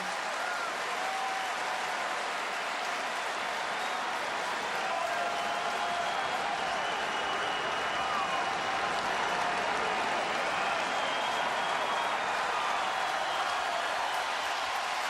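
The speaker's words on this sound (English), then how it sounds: "Crowd really getting into it for the first time in a while." Big-league ballpark crowd at a Cubs home game against the Marlins on a summer afternoon, a steady, dense roar of cheering and applause that swells slightly and holds throughout, broad and distant-sounding with no talk over it.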